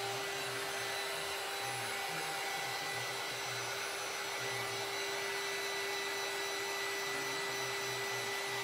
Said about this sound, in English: I'm drying with this little hot air gun that I got from Amazon